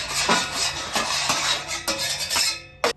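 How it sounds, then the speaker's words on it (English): Metal spatula scraping charred food residue across a Traeger flat top griddle after cooking steak for fajitas, a series of close, rough scrapes and clinks with short pauses and a sharper knock near the end. "Scrape all that bad off."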